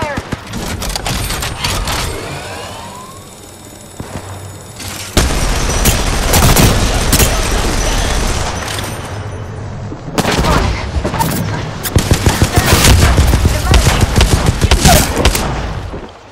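Gunfire in Apex Legends on the Nintendo Switch comes in dense, loud bursts of rapid shots, with louder stretches separated by brief pauses and a voice calling out over the shooting.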